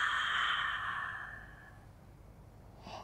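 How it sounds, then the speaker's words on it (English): A long, breathy exhale during a beginner Pilates mat exercise, close and soft, gradually trailing off into quiet with a faint breath at the end. "Exhale."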